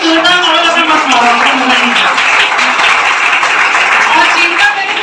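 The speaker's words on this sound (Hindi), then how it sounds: "तालियां तालियां तो जोरदार मारो" A large indoor audience applauds loudly and steadily for several seconds, with dense continuous clapping throughout.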